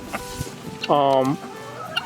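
A single hen's drawn-out, harmonic cluck rises clearly mid-clip, with quieter murmurs from barred rock chickens and a rooster and faint background noise around it.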